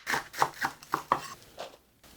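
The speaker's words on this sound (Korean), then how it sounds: "쪽파를 먹기 좋은 크기로 이렇게 잘라서 넣어주면 돼요." Green onions chopped into bite-size pieces on a board, about seven close, crisp knife strikes in an uneven rhythm that fade out at the end.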